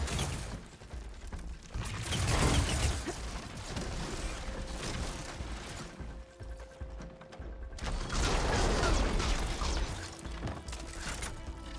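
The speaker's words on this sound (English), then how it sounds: "That was a really fast reload." A fast weapon reload in Horizon Forbidden West, with clicking, ratcheting mechanical sounds amid dense surrounding game noise and bursts of impacts, fairly loud and continuous.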